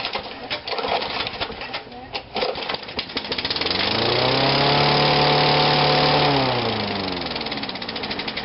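A Briggs and Stratton small engine with a fire-damaged carburetor runs with a knocking, uneven chug, rising into a sustained rev in the middle before dropping back, with a person talking over the start.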